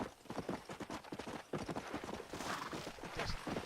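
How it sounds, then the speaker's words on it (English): Rapid galloping horse hooves in the Red Dead Redemption video game, a steady driving clip-clop rhythm that stays loud and close throughout, with no talk over it. "Madre mía, qué rapidez del caballo"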